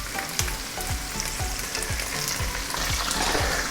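Ginger, garlic and green chillies fry steadily in a hot pan, a dense continuous sizzle with soft low stirring knocks about every half second, no voices.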